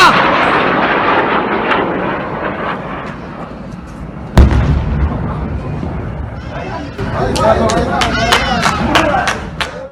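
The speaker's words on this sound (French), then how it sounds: "l'on peut entendre des gens acclamer ces 2 tirs visiblement en provenance de Kigali" Two heavy artillery shots fired from the direction of Kigali, heard from Gisenyi, Rwanda: a sharp booming blast midway through, with a crowd cheering and voices rising over distant rumble afterward.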